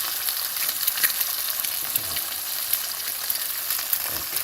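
An egg fries in a buttered pan, producing a steady close sizzle and fine crackle throughout, with faint clinks and no talk.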